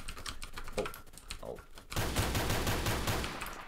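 Rapid Desert Eagle pistol shots ring out in Roblox Phantom Forces, a quick run of about six evenly spaced, loud reports over a busy game mix after a quieter stretch with sparse clicks.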